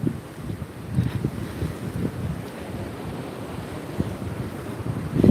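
Surf washing and breaking on a beach on a bright day, steady rolling wash with wind buffeting the microphone and heavier surges near the start and end.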